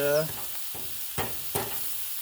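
Frozen shrimp cooking on a Blackstone griddle give a soft sizzle broken by a few sharp scraping or stirring strokes, with a brief voice-like tone at the start.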